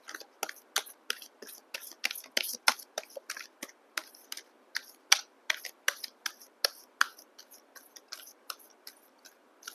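Tarot cards drawn one after another from a second deck, a rapid series of crisp, close snapping and flicking taps in an uneven rhythm, with no talking.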